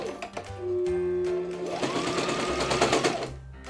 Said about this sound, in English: so we're going to sew up towards the edge